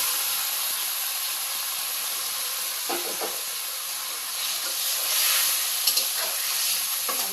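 Boiled drumsticks sautéing in a pan, a continuous close sizzling hiss broken by occasional scraping and stirring of a spatula.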